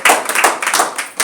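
A church congregation applauding at a sermon, a brief burst of many hands clapping loudly and close with no voices.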